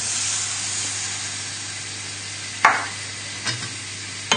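A red wine sauce is stirred in a pan, giving a steady close sizzling hiss with a few brief scraping knocks of the spoon near the end.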